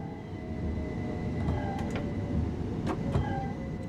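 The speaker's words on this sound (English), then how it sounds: "Let's slow this train down." A train in Train Sim World's East Coastway line rolls into Hampton Park with a steady rumbling drone, carrying a few faint squeals and tonal whines as it slows.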